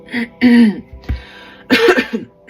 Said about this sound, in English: just clearing my throat